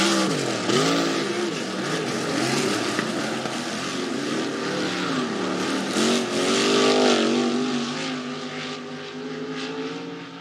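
Sprint cars race around Rapid Speedway, the number 18 car among them, in a loud, continuous engine roar with rising and falling pitch as the cars sweep past, several engines overlapping and no voices.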